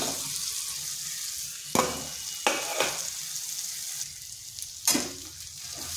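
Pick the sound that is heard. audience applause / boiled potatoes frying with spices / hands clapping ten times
boiled potatoes frying with spices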